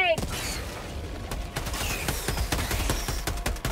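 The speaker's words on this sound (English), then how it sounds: "Throwing grenades!" Dense, continuous gunfire and blasts of grenade explosions in the video game Helldivers 2, with sharp repeated bursts crowding a loud, busy battle mix while voices call out faintly underneath.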